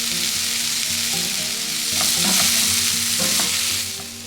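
A spoon stirs egg puff filling with chopped coriander and salt as it fries in a pan, a steady sizzle broken by a few clear scraping and clinking strokes, close and loud.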